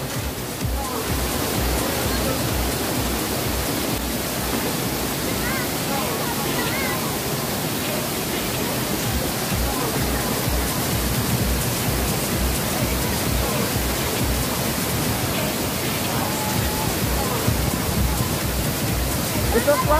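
Tagbibinta Falls pouring in a loud, constant broadband rush of falling water, close and unbroken throughout, with people talking faintly beneath the roar.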